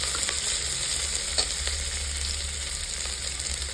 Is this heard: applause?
no